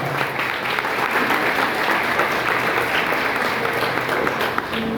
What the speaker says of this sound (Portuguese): Quantos podem aplaudir o nome do Senhor por essa palavra?